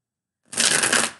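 A quick burst of tarot cards being shuffled, a brief riffling rush after a moment of silence.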